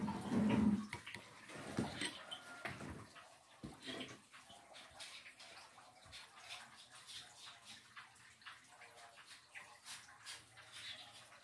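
Liquid photosynthetic bacteria fertilizer being stirred, a close, irregular sloshing and splashing strongest early on, then settling into softer, steady liquid movement with faint background noise.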